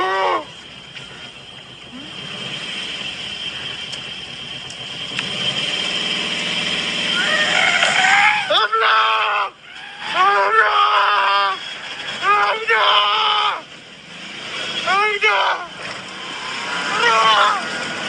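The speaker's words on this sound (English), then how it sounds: "they started hearing shrieking sounds in the woods all around them" Shrieking sounds in the woods at night, recorded from inside a car: repeated loud, wavering high-pitched shrieks come in bursts over a steady engine-like hum, with no talk.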